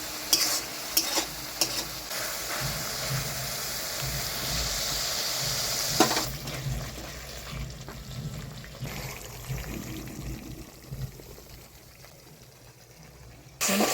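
Spice paste for a Bengali fish doi kalia is stirred and fried in a pan, with a strong sizzle that fades after a few seconds into softer crackling and scraping stirs, close up.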